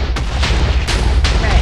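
Fireballs blast in KingdomCraft, three loud, close booming bursts in quick succession over a dense, rumbling roar.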